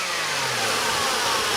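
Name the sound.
Holden VS Ute engine running to warm up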